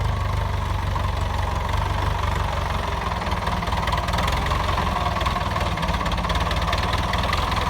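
A Ford 6610 farm tractor, about fifty years old, idles steadily close by with a deep, even diesel chug and a rhythmic knocking clatter that holds unchanged throughout.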